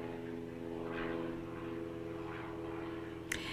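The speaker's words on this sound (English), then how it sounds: "you can hear the airplane outside" A propeller airplane drones faintly in the distance with a steady low hum, ending in a brief sharp click.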